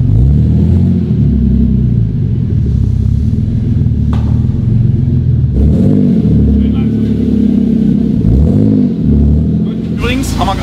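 Toyota Supra MK4 on a dynamometer, its engine rumbling and revving in repeated rising and falling sweeps, loud and close, with people talking over it.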